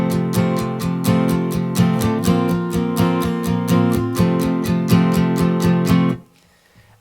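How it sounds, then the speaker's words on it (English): Acoustic guitar strummed in steady, even eighth notes for about six seconds, close and full, then cut off abruptly into near silence; no voice over it. "a simplified version of that would be to just play eighth notes"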